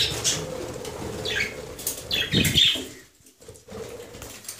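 Rapid bursts of budgerigars' wings flapping in flight, fluttering close by in several short flurries, with a brief quieter pause near the end.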